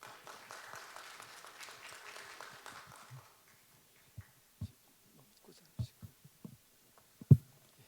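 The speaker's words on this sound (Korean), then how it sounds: "큰 박수로 함현희 교수님을 맞아 주시길 부탁드리겠습니다" Applause from a forum audience welcoming a professor emeritus to speak at an academic forum on traditional Korean hanji paper, steady and moderate for about three seconds, then fading into scattered thumps and small handling noises in a quiet hall.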